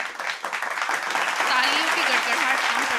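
Audience applause at a Hindi kavi sammelan poetry recital, a steady dense wash of clapping from a seated crowd lasting throughout, with a faint voice or tonal sound threading underneath.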